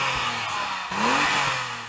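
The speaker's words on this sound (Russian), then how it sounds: "Давай, Тони, подай свой мотор." A BMW M5 engine revs up with a rising pitch, loud and close, then settles back into a steady throaty hum.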